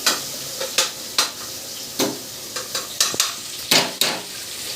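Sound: tomatoes frying and being stirred in a pan

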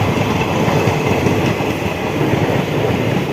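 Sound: Lalgola local train running

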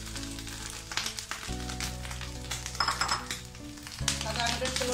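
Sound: grated coconut and dried chillies frying, stirred in pan

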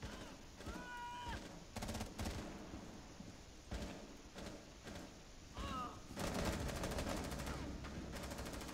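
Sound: gunfire in the video game Rainbow Six Siege

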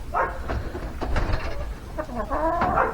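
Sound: chickens clucking

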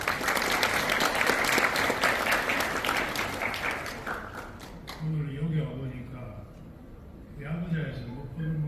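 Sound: wedding guests applauding

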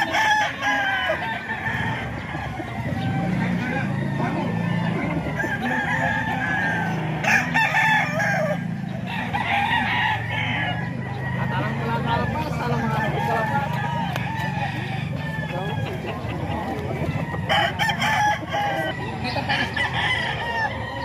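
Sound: roosters crowing at gamefowl farm

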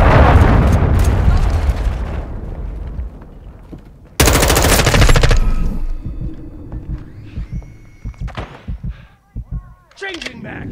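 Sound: cruise missile strike and gunfire in video game Call of Duty Modern Warfare 2

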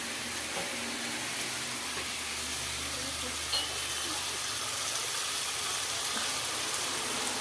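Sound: water added to frying fish curry, sizzling

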